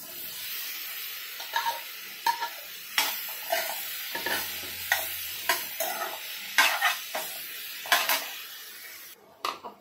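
Marinated mushrooms roast in hot oil and butter in a pan, with a steady sizzle broken by repeated scraping stirs at an irregular rhythm, close and fairly loud, with no talking.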